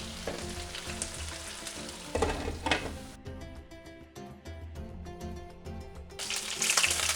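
Fish frying in a pan in its own oil, with papaya in the pan and no added oil: a steady crackling sizzle with bursts of spitting, the hiss changing texture partway through, close and fairly loud, with no voices.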